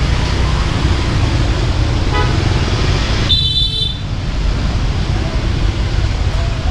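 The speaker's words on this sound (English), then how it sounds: "in Vietnam it's very common for people to honk their horns" A car horn gives a short toot amid steady traffic rumble in a narrow Saigon alley, standing out briefly partway through over the continuous background noise.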